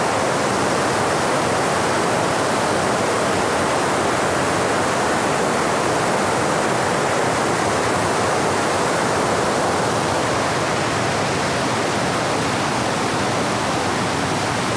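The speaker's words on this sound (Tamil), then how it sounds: "அடர்ந்த காட்டுக்குள்ளே இருக்கிற ஆறில் தண்ணி வந்து பயங்கரமாக ஆர்ப்பரித்து ஓடிட்டுருக்கு" The flooded Chemmanarai river surging through dense Western Ghats forest, a steady, loud roar of churning water holding evenly throughout with no voices.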